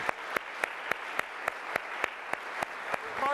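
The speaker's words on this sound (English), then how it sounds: "So give Sarah a round of applause." Steady, evenly spaced clapping rings out at a brisk rhythm, a dozen crisp claps in a row against a quiet room.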